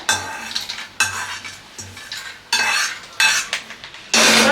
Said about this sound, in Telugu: దీని నుంచి మిక్సీ గిన్నెలో అయితే ట్రాన్స్ఫర్ చేసుకుంటున్నాను ఈ పలుకులన్నిటిని కూడా